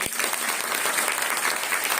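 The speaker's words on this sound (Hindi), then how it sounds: "हालेलुया, जोर से ताली बजाइए।" A church congregation at a parish gathering claps loudly and continuously, a dense wash of hands close by with no pauses.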